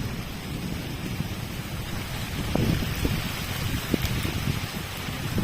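Heavy rain falls steadily in a dense, continuous hiss with scattered low thumps of drops hitting surfaces, close and unbroken, with no voices.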